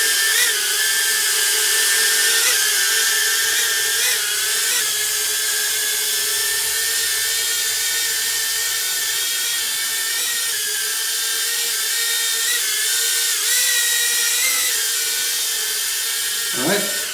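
A SANROCK GD65A mini drone hovers close by indoors over a table, its small propellers giving a steady high-pitched whine that wavers slightly as the flight is corrected, continuous throughout.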